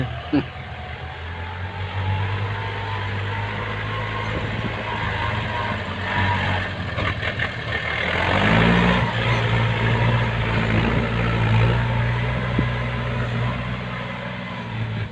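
Six-wheel dump truck powered by a 49-horsepower Yanmar engine drives along with a steady, loud low engine drone that rises and roughens partway through, while someone talks over it.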